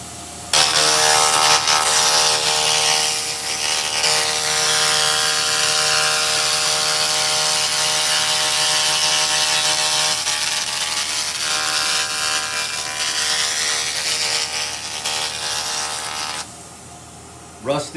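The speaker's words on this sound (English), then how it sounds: "We're going to do another 16-inch pass on the rust." A 2000W laser cleaner strips rust from a steel I-beam in one long pass, a loud, steady, close buzzing hiss with strong tonal whine that runs for about sixteen seconds, then cuts off into quieter room noise.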